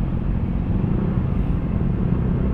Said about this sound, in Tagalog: Traffic na dito.